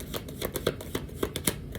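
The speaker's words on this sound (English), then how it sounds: "let's shuffle one more time because I interrupted myself from shuffling" Tarot cards are shuffled by hand in quick, rhythmic riffling bursts, close and soft with no talking.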